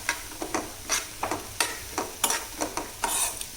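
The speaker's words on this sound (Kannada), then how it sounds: "ಇವಾಗ ಜೋಳಿಕಾಯಿ ಫ್ರೈ ಮಾಡೋ ಟೈಮು ಚೆನ್ನಾಗಿ ಫ್ರೈ ಮಾಡೋಣ" A vegetable frying in a pan, with a steady hiss broken by rhythmic stirring scrapes roughly every half second, close and clear, with no talking.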